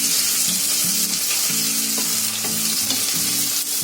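Finely chopped onion fries in oil in a kadai over full heat, with a loud, steady sizzle close up and light stirring clatter throughout.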